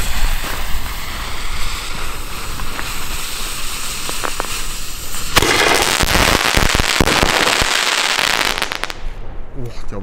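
A Pyroland Pech & Schwefel Salut Knallstern firework shell, a loud F2 mortar, bursts with a sharp bang midway through, followed by dense crackling and popping against steady outdoor background noise.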